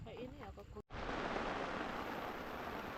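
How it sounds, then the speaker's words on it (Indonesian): Heavy rain pours steadily at a campsite at Masada Village in Puncak, Bogor, with a dense, continuous hiss that starts suddenly after a brief voice and then holds at a constant loudness. "ketika kami akan menyiapkan makan malam, hujan tiba-tiba turun cukup deras"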